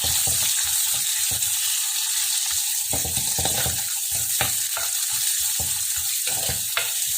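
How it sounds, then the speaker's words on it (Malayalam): Sliced onion frying in a pan for a plantain stir-fry, a steady loud sizzle with repeated scraping stir strokes throughout, no talk. "അതുപോലെ ഒരു അര സവോള നീളത്തിൽ അരിഞ്ഞ് വെച്ചിട്ടുണ്ട്, അതും അതിലേക്ക് ഇട്ട് കൊടുക്കുക. നന്നായിട്ട് ഇളക്കി കൊടുക്കുക."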